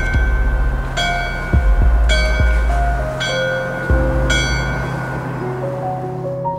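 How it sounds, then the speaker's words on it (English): A church bell tolls at a memorial for fallen firefighters, with several slow, ringing strikes spaced a second or so apart, each decaying into a long hum over soft background noise. "the bell again tolls to those who have selflessly given their lives"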